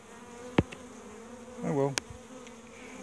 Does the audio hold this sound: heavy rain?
no